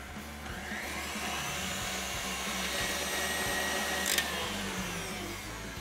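Stand mixer whipping egg whites, a steady loud motor whine with a rapid rhythmic whisking pulse, continuous and close throughout.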